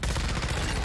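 A dense burst of rapid gunfire crackles in Call of Duty Warzone 2 during a zombie Haunting mode fight, loud and continuous for under a second.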